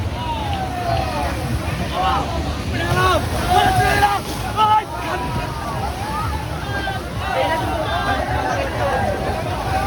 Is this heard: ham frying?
no